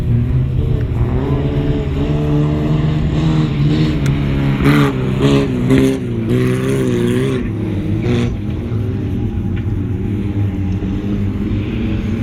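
Race cars roar and rev together in a no-rules dirt-track race at Zhatay, loud and continuous engine rumble with rising and falling pitch as several cars accelerate and pass.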